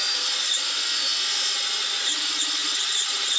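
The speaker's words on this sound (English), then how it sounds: "But before I can do that, I finally have to actually true up this other flange." A metal turbo flange on a Turbo 3.0 Mercruiser boat engine is trued up with a tool, giving a steady, close, bright abrasive grinding rasp that runs unbroken throughout.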